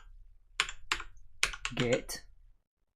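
Fingers type terminal commands on a computer keyboard, a quick run of about half a dozen sharp, close key clicks over roughly two seconds, then silence.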